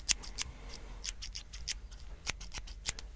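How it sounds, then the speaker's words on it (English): Scissors trimming loose hair in a calm ASMR setting, a string of crisp close snips in small uneven bursts, with no talking. "maybe take a little trim off the top like I did for me."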